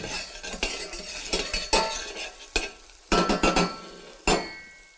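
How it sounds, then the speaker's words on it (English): Chopped onion sautéing in butter in a pan, a steady sizzle broken by clinking stirs of a utensil against the pan, close and fairly loud, no voices. "then I saute my onion with the butter"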